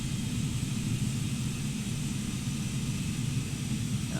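An Antonov An-225 Mriya six-engine cargo plane in Microsoft Flight Simulator gives a steady, droning engine roar with a broad hiss, unbroken and even throughout, with no talking.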